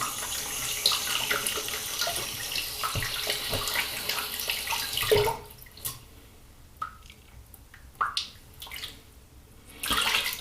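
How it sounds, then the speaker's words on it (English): Running tap water pours steadily as a hand is rinsed beneath it while shaving, then cuts off, leaving a few faint drips and small splashes in a quieter room. "then rinse my hand."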